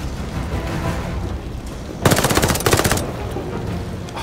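A PPSh submachine gun in Call of Duty: Vanguard fires one loud, rapid automatic burst of about a second, standing out sharply over a steady background of game ambience.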